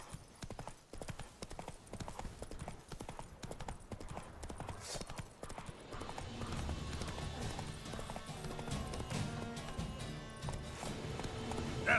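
Roach, the horse from The Witcher 3, gallops with steady rapid clip-clop hoofbeats that grow louder and denser over the second half, mixed with game ambience and music and an occasional faint whinny.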